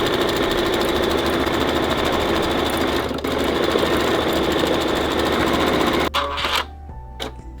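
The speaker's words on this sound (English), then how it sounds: "We're going to go ahead and sew stitch sequence 1 to stitch a placement line for fabric A." An embroidery machine stitches a placement line on fabric hooped with tearaway stabilizer, a loud, steady, rapid mechanical whirring and needle chatter that runs without pause and then stops near the end.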